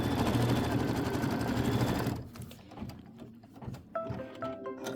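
Kimberbell embroidery machine stitching the bottle placement line on polka dot fabric, a steady loud whirring hum for two seconds, then stopping into quieter clicks and small mechanical beeps.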